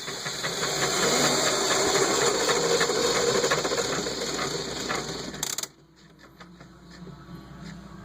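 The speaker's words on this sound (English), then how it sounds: "And that's all we need to almost stall the motor." Small Lego electric motor straining through a 10-speed Lego transmission in 8th gear, a steady close mechanical whir and rattle that runs loud for about five seconds, then drops abruptly to a faint near-stalled hum.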